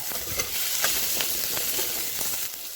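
Garlic and onion fry in a pan with a continuous close hiss, broken by small crackles and pops and an occasional stir.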